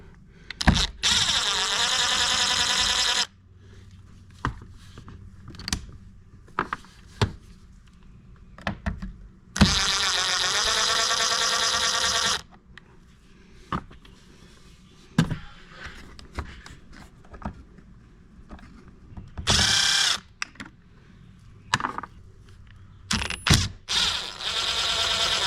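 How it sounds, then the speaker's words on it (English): An impact driver with a T30 Torx bit removes the side mirror of a 2012-2018 Ford Focus, giving several loud whirring, rattling bursts of a few seconds each, separated by quieter clicks, handling noises and brief pauses. "I'm just going to be using my impact with the T30 Torx Bit or Star Bit"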